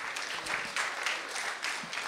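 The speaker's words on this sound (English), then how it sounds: "Let's give them a round of applause." A studio audience applauds a married couple on a newlywed game show, a soft, continuous patter of clapping heard at a distance and fairly quiet.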